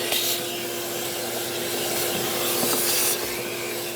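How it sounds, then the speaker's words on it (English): A vacuum cleaner sucks debris from the cabin air filter housing of a 2006-2010 Hyundai Sonata, a loud, steady whooshing drone with a constant tone and faint rubbing as the nozzle moves, close up. "it is a good idea to get a vacuum cleaner and vacuum up anything that's in there"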